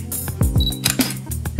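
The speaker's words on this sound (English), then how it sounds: "Although you will hear a shutter click," Shutter clicks from a virtual tour camera, several sharp mechanical clicks and clacks in quick succession with a faint short beep partway through, close and fairly loud.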